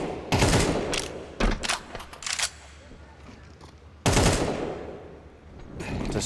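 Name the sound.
gunfire shooting through walls in Counter-Strike video game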